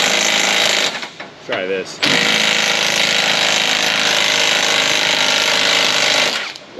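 A small impact wrench rattles hard and loud against a bent frame bolt on a Ford Transit 3.7. After a short burst and a pause it hammers continuously for several seconds, with a brief spoken remark just before.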